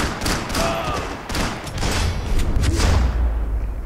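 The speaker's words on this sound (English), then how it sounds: "Gunfire over." A rapid burst of gunfire rings out in the Max Payne 3 video game, with sharp overlapping shots and a booming low rumble, close and loud throughout.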